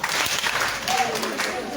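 Brief burst of audience applause and clapping at a children's club celebration, a short dense patter of hands under a little crowd noise.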